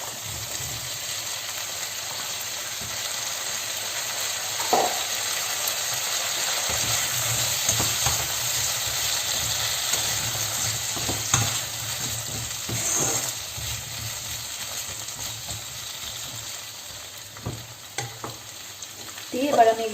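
Onions and capsicum stir-fry in a pan over medium flame, giving a steady crackling sizzle throughout with occasional scrapes and clinks of a utensil stirring, no talking.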